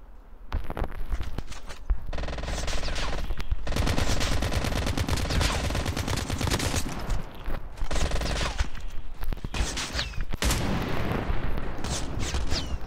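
Sustained automatic gunfire from a weapon in Call of Duty Mobile, loud and continuous bursts crackling through the whole stretch with brief gaps, up close and dominating the mix.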